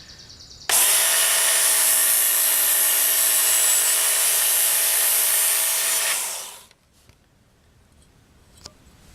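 A knife is run along the belt of a Work Sharp powered knife and tool sharpener, producing a loud, steady, high-pitched whine and grind for about six seconds before it winds down into near silence, with faint handling noises afterward.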